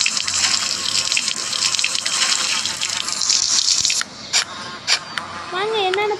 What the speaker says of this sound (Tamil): நம்ம எல்லா செடிக்கும் தண்ணி ஊற்றிடலாம்